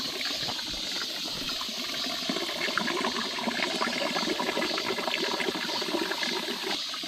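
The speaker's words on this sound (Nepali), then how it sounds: "यहीँ उम्रेको पानी टक्क फ्रेस" Fresh spring water on Geumosan mountain pours and gushes steadily, a continuous close splashing stream with no talk over it.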